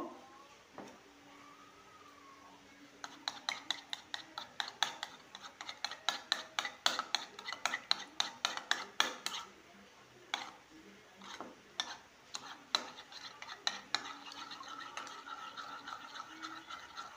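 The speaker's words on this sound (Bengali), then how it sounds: "এবার এটাকে ভালো করে ফেটিয়ে নেব।" Eggs seasoned with salt and a little ground pepper are beaten in a bowl, a quick run of close, rhythmic clicking and scraping strokes that speeds up, pauses briefly and resumes.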